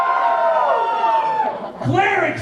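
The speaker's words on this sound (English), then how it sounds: "Wizards, give me a cheer." A convention crowd at a furry event's opening ceremony cheers and whoops on cue, a brief burst of overlapping voices swelling and fading, loud and close in a large hall.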